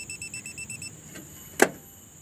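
An electrical timer in a home distribution board buzzes in short, high, evenly pulsed tones after the RCCB is switched on, followed by a sharp click.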